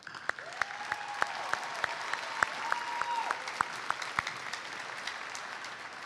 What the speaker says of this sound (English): Seniors, please acknowledge your parents, your guardians, for their unconditional love and support with a round of applause.